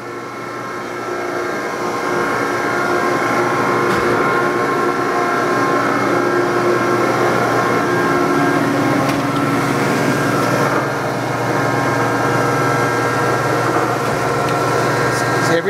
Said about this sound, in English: show you it feeding properly